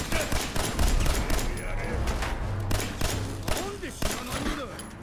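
Explosive pistol gunfire in Fallout 4, a dense run of loud, booming shots with blasts and clatter filling the whole clip, speech faintly mixed under the combat.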